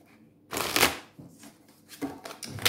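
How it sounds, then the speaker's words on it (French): Oracle cards being shuffled by hand, close crisp riffling bursts in two main runs with softer shuffling between, no speech. "Alors, on va tirer 3 cartes de l'Oracle des miroirs."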